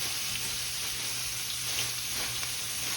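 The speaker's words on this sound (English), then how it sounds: "We're going to throw these onions in here, y'all. We're going to saute them off." Onions sautéing in a pan for smothered country pork ribs, a steady close sizzle and crackle running unbroken throughout with no talk.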